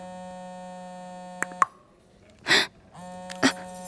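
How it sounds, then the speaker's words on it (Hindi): A mobile phone rings in an indoor scene, sounding as a few short electronic tones over a steady low hum, followed by a louder burst of sound. "उसी का फोन है।"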